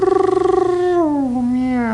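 A cat gives a close, clear meow that starts with a pulsing, throaty trill and then stretches into a drawn-out cry sliding down in pitch.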